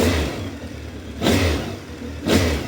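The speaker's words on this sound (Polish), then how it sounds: "Honda odpala na dotyk." A 1998 Honda CB 1300 Super Four motorcycle engine runs close by, giving two sharp throttle blips over a steady idle with no talking.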